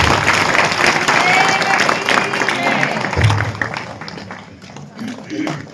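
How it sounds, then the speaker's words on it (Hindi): Loud clapping from a satsang gathering welcoming the honourable MLA, a thick burst of applause that thins and fades toward the end while voices and a thump mix in. "माननीय विधायक जी के लिए जोरदार ताली बजा के अभिनंदन"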